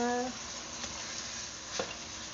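Lumpia filling sautés quietly in a pan, a soft continuous sizzle with a couple of brief scrapes of stirring, faint and steady without talk.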